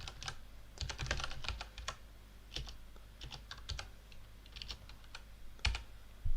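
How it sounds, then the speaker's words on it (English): Typing on a computer keyboard, with irregular bursts of close, crisp key clicks and short pauses between them, and no talk. "So I started typing getNumPages"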